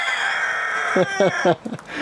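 A few short, rhythmic clucks from a bantam chicken close by, evenly spaced over a steady background hum.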